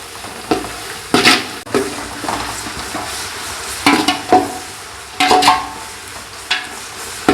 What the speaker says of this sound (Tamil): பச்சை மிளகாய் போட்டுக்கலாம் வெங்காயம் நல்லா வதங்கணும்